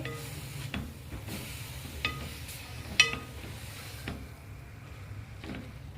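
Grated carrots are stirred and roasted in a pan for gajrela, with a spoon scraping and tapping the pan in irregular strokes over a faint, steady sizzle.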